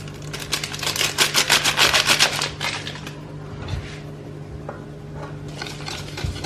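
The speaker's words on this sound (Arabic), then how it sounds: "نزيد مع هذاك الكيس تاع خميره كيميائيه باش نغربلو كل شيء." Flour and baking powder are sifted through a kitchen sieve for a chocolate cake. The sieve gives a rapid, loud, rhythmic rattling and tapping that fades into softer scraping, with no talk.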